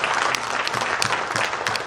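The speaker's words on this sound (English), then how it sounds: "Come on, give him a round of applause." Audience applause at a communication boot camp session, a steady, fairly close wash of clapping from a seated crowd that continues evenly for the whole stretch with no talking over it.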